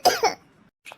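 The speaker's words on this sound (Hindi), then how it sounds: "माँ की खांसी तो दिन ब दिन और बढ़ते जा रही है।" An ill elderly mother gives two quick close coughs in a cartoon story, then a short faint throat sound after a pause.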